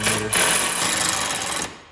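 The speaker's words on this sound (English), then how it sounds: "to get down in there with the drill" A close power drill whirs in one short, rapid burst, then spins down and stops.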